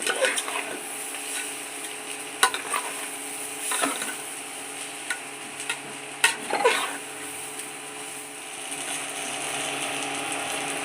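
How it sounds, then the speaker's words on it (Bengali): Raw pulao rice, with cashews and raisins, being stirred and fried dry in a pan: a steady soft hiss with scattered sharp scraping clicks and rattles from the spoon, close and alone. "চালটা ভেজে নিচ্ছি পোলাওয়ের চালটা আগে"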